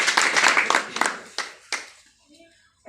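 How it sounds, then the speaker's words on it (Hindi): An audience claps loudly in a burst of dense, rapid hand claps that quickly thin into a few scattered final claps and fade to near silence, with a voice briefly audible. "एक बार जोरदार ताली।"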